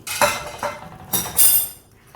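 Vegetables, mushrooms and corn stirred into white sauce in a pan for pasta: a few clinks and scrapes of a utensil against the pan, spaced irregularly, close and fairly clear with no talk.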